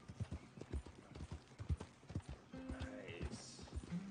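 Horse hooves clip-clop in the Red Dead Redemption 2 video game, a steady run of close hoofbeats with a brief whinny-like tone partway through and faint game sounds behind.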